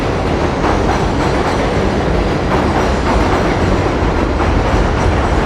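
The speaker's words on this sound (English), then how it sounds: "I got the train over me." A train rumbles overhead on an elevated track in Long Island City, New York, a loud, continuous roar with rhythmic clattering of wheels on rails, close and unbroken, with no talk heard over it.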